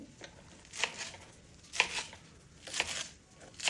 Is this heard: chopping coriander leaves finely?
yes